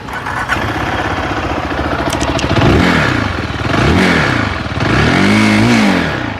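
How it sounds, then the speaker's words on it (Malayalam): A Zontes GK 350 cafe sports motorcycle is revved through its exhaust in repeated rising and falling blips, a loud, close engine roar with a brief squeal near the start and no talking. "ഈ വണ്ടിയുടെ എക്സോസ്റ്റിനോട് ഞാൻ ജസ്റ്റ് നിങ്ങൾക്കൊന്ന് കേൾപ്പിച്ചു തരാം"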